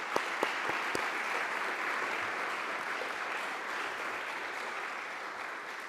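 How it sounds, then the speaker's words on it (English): An audience at a community inclusion award ceremony applauds CPAC, a steady wash of clapping from a room full of people with a few sharp claps at the start, sustained throughout. "let's give a round of applause to CPAC"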